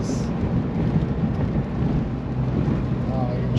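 Steady rain and low thunder rumble outside a car, a dense broadband wash of patter and roar that continues without a break through the clip.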